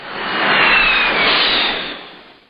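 A jet aircraft passes close by as a broadband roar that swells to a loud peak and then fades away over a couple of seconds, with no voices.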